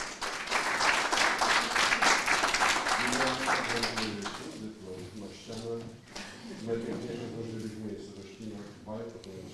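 An audience claps for award winners at a prize ceremony for a history and nature competition in Poland, a dense burst of applause for the first few seconds that fades into talk and a voice carrying over the thinning claps.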